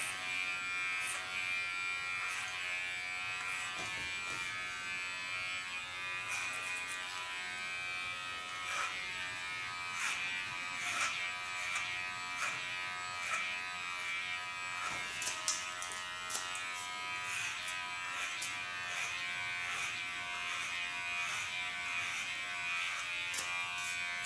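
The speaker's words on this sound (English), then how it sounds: "in the underlines I use a clipper, but this is only to get rid of some length of hair" An electric hair clipper buzzes steadily and close throughout, trimming length off a child's hair, with a constant high whine and occasional small clicks and scrapes as it moves.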